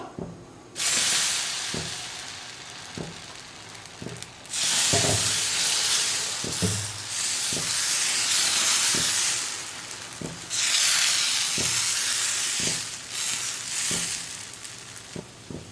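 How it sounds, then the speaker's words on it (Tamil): Millet dosa batter meets a hot stone griddle and bursts into loud, close sizzling hiss that swells and eases in waves, with light rhythmic ticks of a ladle spreading it beneath. "கல் நல்லா காஞ்சிடுச்சு இப்போ தோசை ஊற்றிக்கலாம்"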